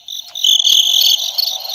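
Crickets chirp as a sound effect, a bright, steady high-pitched trill with a few brief pulses, clear and alone with no voices.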